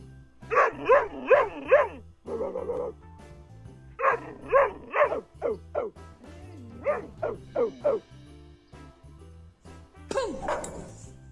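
A dog barks in quick rhythmic bursts of three to five sharp barks, separated by short pauses and ending with a higher whining yip, loud and close in a quiet room.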